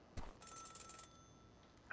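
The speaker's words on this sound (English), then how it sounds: "It's a phone call." A telephone rings in the video game Celeste, a short, quiet burst of electronic ringing followed by faint background tones.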